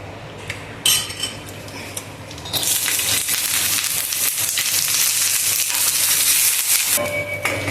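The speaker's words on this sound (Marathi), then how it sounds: "लसूण या अद्रक थोडंसं तेल टाकून भाजून घेऊ" Garlic and ginger roast in a little oil in a pan at home, a few clinks of utensils first, then a loud steady close sizzle that fills the rest of the sound.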